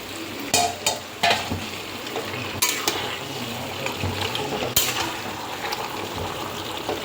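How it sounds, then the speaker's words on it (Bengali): Marinated chicken, pre-seasoned with cumin and coriander powder, goes into hot spiced oil for chicken kosha, frying with a soft sizzle under repeated clattering stirs and utensil knocks against the pan. "তো আমি এখন যে চিকেনটা ম্যারিনেট করে রেখেছিলাম, ওই চিকেনটা আমি এখানে অ্যাড করে দিচ্ছি।"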